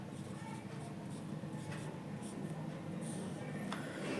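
Chalk or marker scratches on a board as an equation is worked out, making soft, intermittent scraping strokes with a few sharper taps, quiet against a faint room hum.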